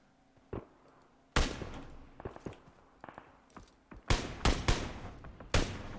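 Gunfire in PUBG Mobile on the Erangel map: sharp, loud broadband shots arrive in uneven bursts, one early crack followed by a heavy volley and several clustered shots, mixed with lighter footstep-like ticks, with no talk.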